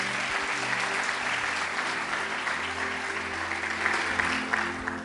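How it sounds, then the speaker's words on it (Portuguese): A church congregation applauds during a sermon, a continuous bright crackle of many clapping hands with a low hum beneath, fairly soft and steady throughout. "Aplauda o Senhor Jesus por isso."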